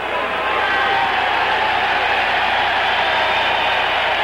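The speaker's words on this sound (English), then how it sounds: "Terry Daniels being cheered by the crowd." A boxing crowd roars and cheers for Terry Daniels after a chaotic bout in the ring, a dense, steady wall of massed voices and applause that holds at full strength throughout.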